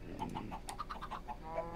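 Chickens in a video game give a quick run of soft clucks, about ten short notes in under two seconds, quiet and close with no voices.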